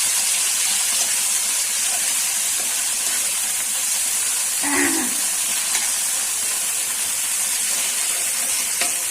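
Chili, garlic and coriander leaves fry in oil with a steady, even hiss that carries through the whole stretch, plus a brief louder sputter near the middle. No one speaks.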